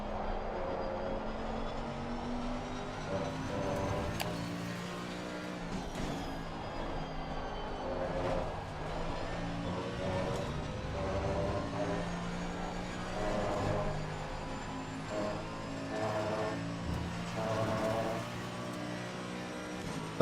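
A Mercedes race car in a racing video game, its engine droning loud and steady near the rev limit, with layered harmonics and brief surges as it pushes on.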